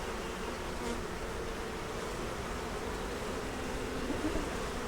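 Honey bees swarm around an open, honey-filled hive, their steady, dense buzzing holding close and even throughout with no voices.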